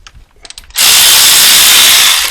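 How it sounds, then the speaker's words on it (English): A ratchet fitted with an extension bar turns a bolt during engine removal work on a Vauxhall Astra, with a few faint clicks followed by a loud, continuous rasping burst close up. "you can use it with conventional ratchet and just use it by hand"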